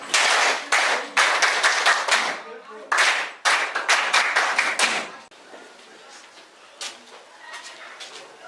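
Students in a high school classroom clap their hands in several loud, close bursts, stopping briefly between them, then trail off into a few scattered claps and quieter room sounds.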